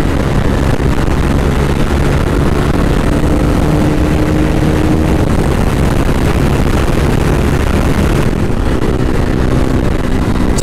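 A KTM 390 motorcycle engine drones loud and steady during bike stunts, holding a sustained rough roar with slight pitch shifts and no voices.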